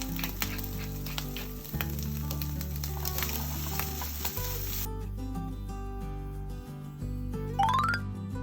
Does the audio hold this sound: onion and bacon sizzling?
yes